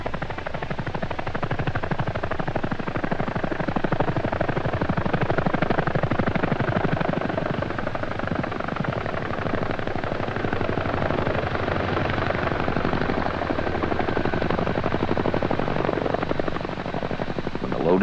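A CH-47 Chinook helicopter hovers while airlifting a Chaparral air defense system, its twin rotors producing a loud, continuous rapid thudding chop that stays steady and near throughout, with no speech.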